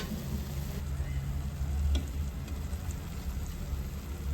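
Chicken pieces going into hot oil with masala, tomato and onion for a small-onion chicken kulambu, giving a steady, close, moderate sizzle with a low rumble beneath and one brief clatter partway through; no one speaks.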